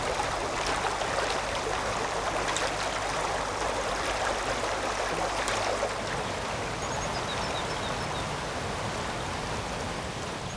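Fast, clean water rushes in a mountain stream's upper reaches, a steady, dense hiss and gurgle that fills the scene without a break, close and fairly loud.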